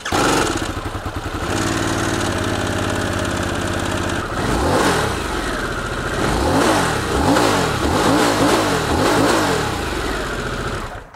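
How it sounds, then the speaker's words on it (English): Harley-Davidson Sportster S motorcycle engine starting and revving: a loud, steady rumbling idle gives way to repeated rising and falling throttle blips, close and dominant with no talk. "let me fire this thing up for you and show you what it sounds like"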